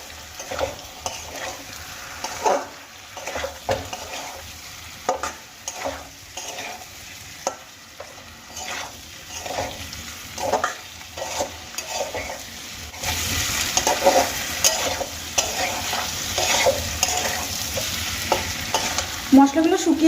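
Boiled potatoes are stir-fried with spices in a pan for a Bengali pea and paneer dish, with a spatula scraping and clattering in steady strokes over a continuous sizzle, close and fairly loud, no talking.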